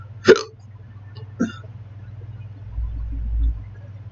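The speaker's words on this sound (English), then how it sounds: "Of all the time I could have hiccups," Two sharp hiccups, close to the microphone and about a second apart, break over a steady low hum, with a soft rumble following.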